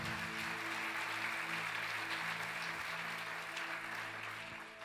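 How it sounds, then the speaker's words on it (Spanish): A church congregation applauds for the Lord, a sustained wash of many hands clapping at steady strength before easing slightly toward the end. "Dele un aplauso al Señor"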